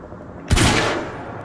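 A single sharp gunshot fires at paint in Quantum Break on PC, a loud close crack with a short decaying tail, standing alone.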